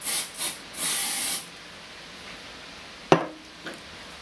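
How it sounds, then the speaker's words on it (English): Three quick hissing sprays of activator from a spray bottle onto a window surface, the last one longer, followed by a couple of sharp knocks. "What I'm going to do is spraying the window surface first with the activator."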